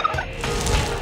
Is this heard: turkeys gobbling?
yes